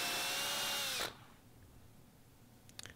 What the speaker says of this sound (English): Now to add extra support, I'm going to pre-drill for some screws